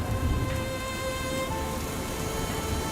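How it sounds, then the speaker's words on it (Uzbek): Gentle rain falls in a soft, steady hiss at a bus stop, even and unbroken throughout, with a faint tonal hum lingering in the background and no voices. "Yomg'ir yuzlarimni qitiqlagancha mayin yog'a boshlayapti."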